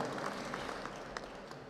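A dense wash of audience clapping at a gun rights rally, continuous and fairly distant, with no voices rising above it.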